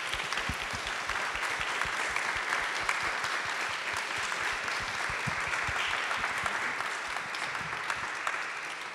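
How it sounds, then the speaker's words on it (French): Audience applause at a round table on politics and artificial intelligence at the Assemblée nationale: dense, steady clapping from a sizeable crowd, sustained and even for about nine seconds. "Comment vous dire merci? Peut-être par quelques applaudissements."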